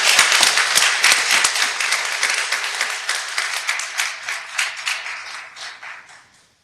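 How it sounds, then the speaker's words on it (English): Applause from the audience at a Greer, South Carolina city council meeting, bright dense clapping that starts strong and gradually thins and fades out over several seconds, with no talking. "Let's give these folks a big round of applause."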